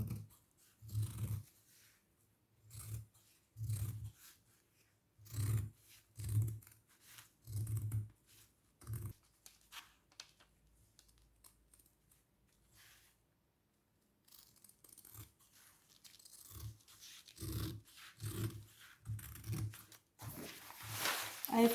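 Scissors cut around a doubled fabric circle for a bowl cover, a series of close, crisp snips in short rhythmic bursts with a quiet pause partway through before the snipping resumes.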